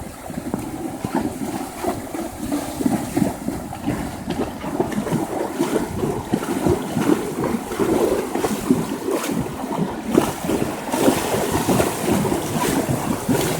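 Horses wading across a swift, shallow river current from an island, with steady rushing and splashing water and strong wind buffeting the microphone throughout, no voices.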